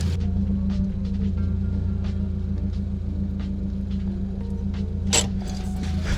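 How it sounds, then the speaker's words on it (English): Air suspension on a Subaru WRX bags down, a steady loud low hum and rumble from the air system with faint creaks and a brief hiss burst near the end, close by and with no talking. "So now let me bag off a little bit more."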